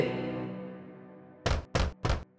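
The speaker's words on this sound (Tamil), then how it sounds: "எனவே அது மீண்டும் குடிசைக்கு சென்று கதவை தட்டியது." Three firm, evenly spaced knocks on a wooden hut door in an animated story, loud and close, following a softly fading tone.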